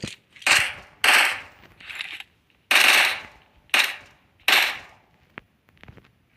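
Loud bursts of gunfire in the video game PUBG, about six separate volleys spaced irregularly, each a short rattling crackle, with no talking.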